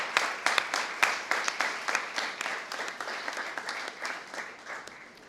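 A church congregation gives a loud round of applause. The dense clapping is sustained and steady throughout, with sharp individual claps standing out at the start, and no voices are heard over it.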